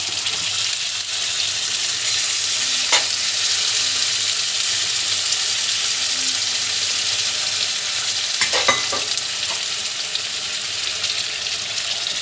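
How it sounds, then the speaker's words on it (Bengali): Yogurt stirred into hilsa fish in mustard sauce sizzling in a hot pan, a loud continuous frying hiss with a few sharp stirring scrapes and splashes, no voice. "এবার আমি দইটা দিয়ে দিলাম।"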